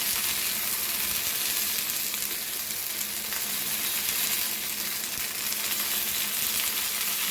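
Paneer shashlik on skewers frying in a little oil in a pan gives a continuous, even hiss that holds steady and fairly loud the whole time, with no voices.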